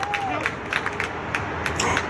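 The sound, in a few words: crowd clapping at street dedication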